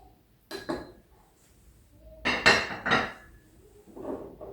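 Utensil scraping and clinking against a bowl while yogurt and mayonnaise are mixed, a few short bursts of stirring separated by pauses, close and moderately loud.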